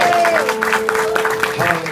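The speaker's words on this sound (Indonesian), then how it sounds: "Tepuk tangan yang meriah buat Tuhan kita." Church congregation applauding at an Indonesian worship service, a steady wash of clapping and crowd noise with a sustained sung or keyboard tone running underneath and voices mixed in.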